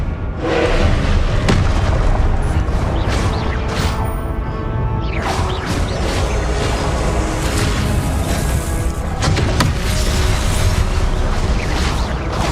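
Repeated Confringo blasting-spell explosions in the Hogwarts Legacy video game form a dense, loud, continuous roar of booms and thuds, with whooshing bursts layered over a heavy low rumble.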